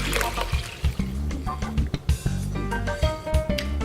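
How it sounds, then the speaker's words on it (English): Seven cups of water are poured into a slow cooker over chopped bacon and peppers for charro beans, a close, splashing stream with uneven gurgling pulses lasting a few seconds. "I have 7 cups of water."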